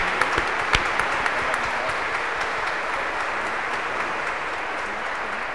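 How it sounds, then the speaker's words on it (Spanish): Steady, dense applause from a church congregation for parents and godparents at a confirmation, a continuous wash of clapping with a few sharper claps near the start and no talking. "Un fuerte aplauso a los padres y padrinos."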